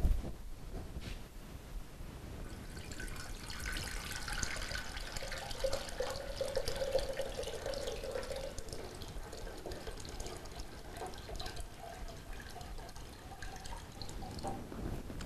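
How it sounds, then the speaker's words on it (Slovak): Ordinary water poured into a glass container for a floating-egg experiment, a steady liquid trickle and splash running continuously for about fifteen seconds at moderate level with no talking. "Tak do tejto nádoby nalieme obyčajnú vodu."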